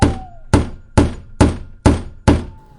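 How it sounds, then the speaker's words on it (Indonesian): Knocking on the wall or floor of a house in the Sumatran forest: six heavy, loud thuds, evenly spaced about half a second apart, each booming briefly before the next. "Pokoknya seperti ada orang yang memukul-mukul dinding rumah atau lantai."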